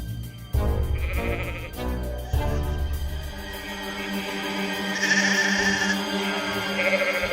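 Goats bleating in an animated Hindi children's story, with several loud, close, wavering bleats in succession over a background music score and no speech.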